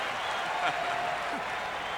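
Baseball fans at the 1996 Home Run Derby in Philadelphia cheer and applaud as a continuous crowd roar at a distance, steady and fairly loud, with a faint announcer voice beneath.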